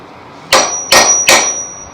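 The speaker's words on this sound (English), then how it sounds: "A little influence with the hammer maybe." Three sharp metallic hammer strikes, about 0.4 seconds apart, drive a part into place during a mechanical repair; each blow rings loud and close with a clanging tail, and a faint high ring lingers between hits.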